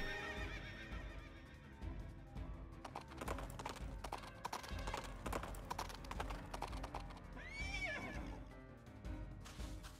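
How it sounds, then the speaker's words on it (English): Puppet horse in Princess Peach Showtime whinnies over quick clip-clop hoofbeats, with rhythmic galloping steps running throughout and a distinct neigh near the end, moderately quiet, with no talk. "puppet horse, I guess."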